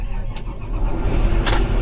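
A new Fendt 728 farm tractor engine cranks and fires up close by, a short burst of starter whirr swelling into a rough mid-pitched idle.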